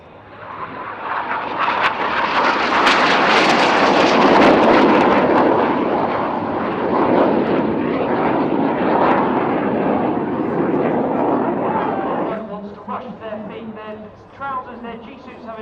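RAF Red Arrows jets fly an opposition barrel roll at the Luchtmachtdagen 2016 air show at Leeuwarden Air Base. A loud, sustained jet roar swells and holds, then eases near the end, with a commentator speaking over it.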